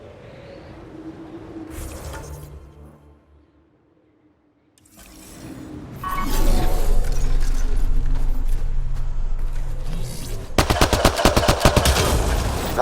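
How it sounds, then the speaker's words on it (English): Gunfire blasting a Ket device in Mass Effect: Andromeda, a loud rapid burst of automatic shots near the end, following quieter ambient game sounds and rumbling effects. "Shooting the device will destroy it."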